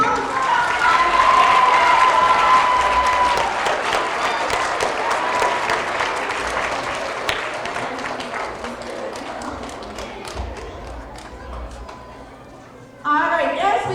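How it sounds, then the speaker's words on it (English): At a 4th–6th grade school assembly, the audience gives sustained applause for award winners, loud at first and slowly fading. A voice speaks briefly near the end as the clapping dies down. "Let's give them a round of applause."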